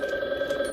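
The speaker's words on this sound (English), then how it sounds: "テレフォンis ringing" A telephone rings in a video game with a steady electronic tone, a brief continuous burst that is moderately loud with no voices over it.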